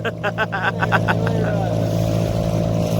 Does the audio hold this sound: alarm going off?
no